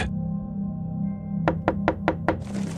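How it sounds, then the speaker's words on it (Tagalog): Five sharp knocks on a window follow each other at an even pace, loud and close over a constant low hum, with a hiss building right after the last knock and no speech. "bigla na lang kaming makarinig ng katok sa bintana"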